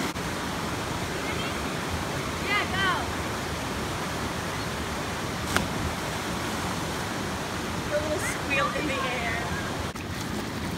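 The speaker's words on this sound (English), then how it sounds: "We got a little waterfall." Small waterfall on a creek, a continuous broadband rush of falling water with birds chirping faintly in the background and brief knocks in between.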